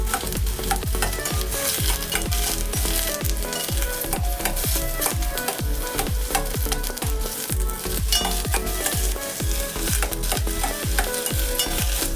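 Sliced onions for a makhana curry fry in a pan, with a steady, loud sizzle running throughout and frequent stirring scrapes and clinks keeping a busy rhythm over it.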